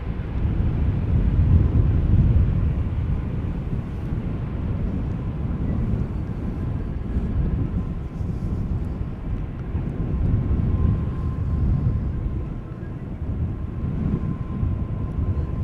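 A VistaJet Bombardier business jet rumbles past at an airport, a deep, steady engine roar mixed with wind buffeting on the microphone, holding fairly loud and continuous without any talking.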